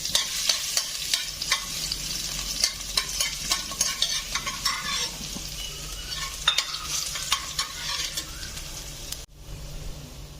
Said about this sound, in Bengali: তো রসুনটা আমার ভাজা ভাজা হয়ে গেছে